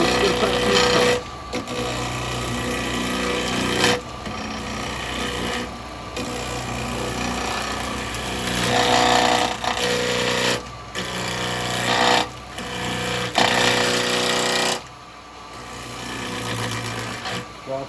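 A spindle gouge cuts wet wood on a lathe while turning a cowboy hat, giving a loud, steady scraping hiss that stops and starts in several separate passes, over the lathe's constant hum.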